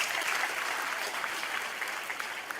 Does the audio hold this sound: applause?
yes